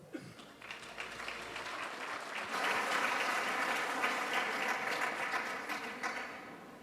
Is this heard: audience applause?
yes